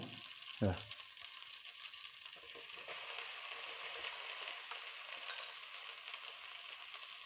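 Soft, steady sizzling as ground masala hits melted butter in a pan while frying chicken, with a brief clatter at the start, then an even hiss throughout.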